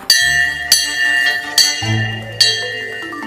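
Old school bell once rung to call pupils into class, struck four times at a steady pace with bright ringing tones that ring on between strikes, with a lower hum entering midway.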